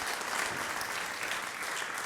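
Audience applause fills the whole stretch, a steady dense patter of many hands clapping at moderate distance, fairly quiet overall with no voices over it.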